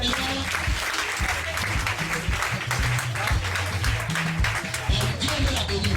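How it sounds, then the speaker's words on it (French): A church congregation applauds and cheers at a Sunday service, with sustained loud clapping filling the space throughout. "Quelqu'un peut acclamer le Seigneur."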